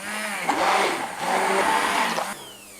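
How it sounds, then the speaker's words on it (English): A stick blender purees San Marzano tomato pizza sauce in a steady, whirring motor drone that shifts slightly in pitch for about two seconds before cutting off abruptly. "I'll just take a stick blender, which isn't long enough to reach. I'm just going to go in and give this a blitz up."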